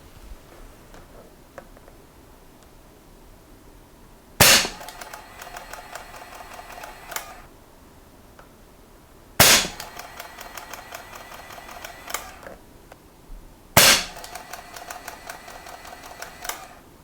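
A semi-auto Benjamin Marauder air rifle fires three loud, sharp shots spaced about five seconds apart, each followed by a brief ringing clatter, over a quiet room with faint background noise.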